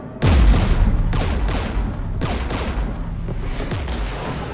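Gunfire and artillery in the video game Mass Effect 3, heavy booming blasts with deep low thuds at irregular intervals over continuous crackling shots, loud and close.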